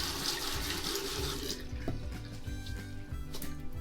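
Tap water runs steadily while hair dye is rinsed out, a loud continuous splashing rush that thins and softens after the first second and a half.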